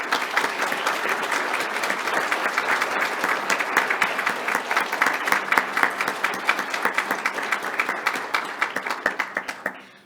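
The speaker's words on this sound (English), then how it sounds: "join me in celebrating these individuals with a round of applause" Enthusiastic applause from an audience at an annual scholarship celebration, dense clapping that gradually thins into separate claps before stopping.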